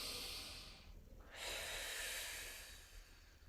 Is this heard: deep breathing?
yes